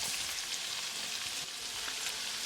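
Salmon pieces frying in butter with garlic over medium heat, a steady dense sizzle with fine crackling that holds at an even level throughout, close and without talk.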